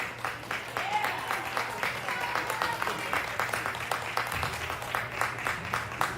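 A crowd at an ice hockey game claps and cheers steadily at a moderate distance, with a commentator's voice running over it.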